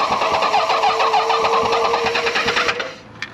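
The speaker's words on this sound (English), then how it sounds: "let's try turning it on." A 40-year-old motorcycle engine cranks and catches, a loud, steady rhythmic chugging close by that runs for under three seconds before cutting off into quiet, with one brief knock at the end.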